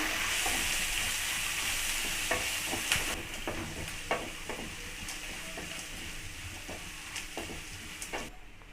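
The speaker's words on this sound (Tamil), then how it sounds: "ஒரு வெங்காயம் பொடி கட் பண்ணி வச்சுருக்கேன் அடி சேர்த்துக்கலாம் வெங்காயம் வந்து நல்லா வதங்கிட்டேங்க" Chopped onions and garlic sauté in a pan with a steady close sizzle and repeated scraping stir strokes, fading slightly toward the end, no voices.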